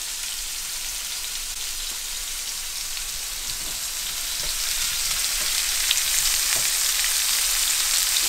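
Deer loin searing in a very hot pan, a steady dense sizzle that grows a little louder partway through, close and continuous with faint pops, no talking.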